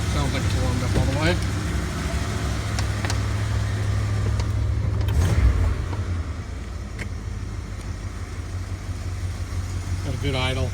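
An old, warmed-up Dodge van engine with stock exhaust idles steadily with a low, even rumble, close by, with a brief louder rev partway through.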